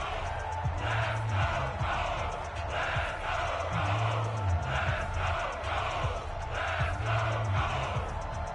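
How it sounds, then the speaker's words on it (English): A stadium crowd in the Madden NFL 20 football video game cheers and roars steadily, swelling in rhythmic pulses ahead of a big third down, under the bed of a game broadcast. "The crowd getting into it as we come up on a big 3rd down"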